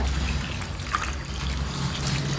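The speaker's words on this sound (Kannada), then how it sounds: "ಇದಕ್ಕೆ ನೀರು ಹಾಕ್ಕೊಂಡು ಬೇಯಿಸ್ಕೊಳ್ಳೋಣ." Water trickles steadily into a cooking pot holding tomatoes, garlic and onions for a double bean curry, a continuous close pouring sound with no talk.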